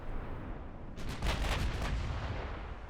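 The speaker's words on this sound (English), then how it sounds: "And we are firing. I got 6 battleships." Battleships fire their guns in a naval war strategy game set in 1949, a dense rumbling barrage of heavy booms over continuous low noise, with no talking.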